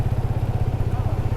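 A motorcycle engine runs on a rough mountain track in Shigar Valley near Skardu, Pakistan, with a steady, loud, close low thudding beat and some clatter, and no voices over it.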